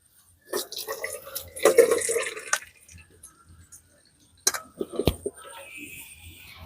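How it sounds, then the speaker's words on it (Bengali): Water poured out of a wok off steamed raw papaya to drain, a close splashing pour in two bursts with trickling and dripping between, and a voice talking over it. "এই কড়াই ধরে জলটা সামেত আমি ঢেলে দেবো যাতে করে জলটা খুব ভালোভাবে ঝরে যায়"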